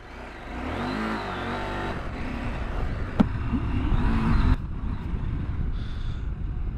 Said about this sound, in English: riding this bike off-road